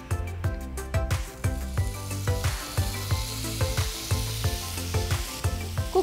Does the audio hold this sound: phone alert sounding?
no